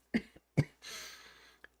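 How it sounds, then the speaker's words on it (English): Two sharp coughs close by from a person recovering from Covid, the second slightly stronger, followed by a long breathy exhale and a tiny click. "I still have the cough."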